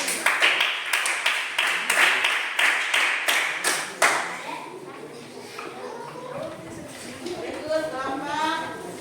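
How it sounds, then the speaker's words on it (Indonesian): A classroom of students claps for a student group, a burst of quick, crisp, near applause for about four seconds that then gives way to children chattering and a teacher's voice. "Tepuk tangan untuk Melati."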